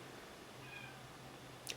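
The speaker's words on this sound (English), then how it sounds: "That's my cat meowing at the door." A cat meows at a door: one short, faint meow near the end, well in the background over a quiet room hiss.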